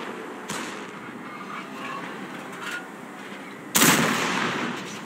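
World of Tanks Frontline battle with a tank's main gun firing, a sharp loud boom that cuts through steady engine and battlefield rumble, preceded by a smaller distant report.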